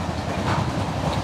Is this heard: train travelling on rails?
yes